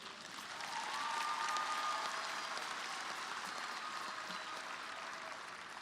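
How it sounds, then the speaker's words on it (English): A crowd at a high school graduation ceremony applauds the seniors, a broad, distant-sounding wash of clapping that swells in the first second and then holds steady and fairly faint in a large hall. "another round of applause for all of the seniors in here"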